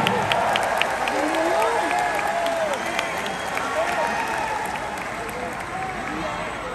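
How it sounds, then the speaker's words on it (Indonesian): A large crowd of thousands of volunteers applauds the Democratic Party chairman at an outdoor political rally, a dense steady wash of clapping and cheering that carries through the whole stretch, with a loudspeaker voice ringing over it. "Beri tepuk tangan untuk Mas Ahaye"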